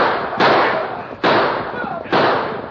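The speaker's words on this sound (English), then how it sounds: "They're shooting." Three sharp gunshot cracks ring out at a steady pace during a radio drama battle scene as homesteaders and ranchers charge on horseback, each loud report trailing off into rumble.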